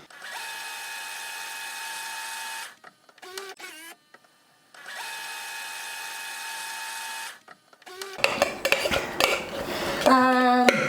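Fresh ginger being muddled for a pineapple ginger martini, heard as two sustained grinding, scraping bursts of muddler against glass, then clattering clinks and rattles of bar tools and glassware close by.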